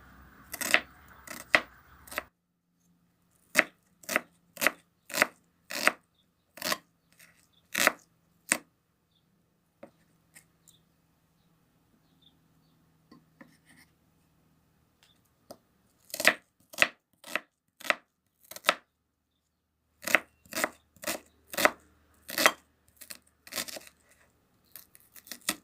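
A knife cuts peeled apple or cucumber into cubes on a board, heard as crisp, evenly spaced chops in several separate runs with quiet pauses between them.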